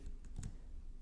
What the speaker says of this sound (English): So while typing it on the Desmos